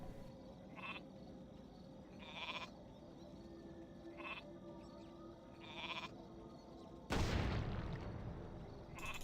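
Sheep in a fantasy strategy video game bleat in short repeated calls at regular intervals over a steady game ambience, followed by a sudden loud boom near the end.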